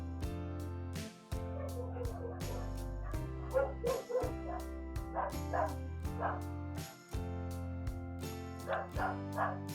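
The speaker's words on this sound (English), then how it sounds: "my dog's barking in the background" A dog barks and yips repeatedly in the background, muffled and somewhat distant, over a steady layer of music.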